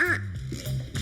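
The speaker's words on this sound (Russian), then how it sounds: "Игрушки для собак. Утка." A squeaky rubber duck dog toy being squeezed, giving a few short honking squeaks one after another, close and fairly loud.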